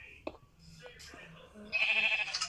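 Sheep bleat in a blocky building video game, short nasal calls rising near the end over a quiet game backdrop, with a player talking around them.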